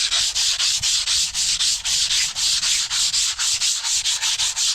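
Rhythmic abrasive scrubbing of a wall surface ahead of painting, steady back-and-forth strokes repeating roughly five times a second, close and fairly loud with no talk.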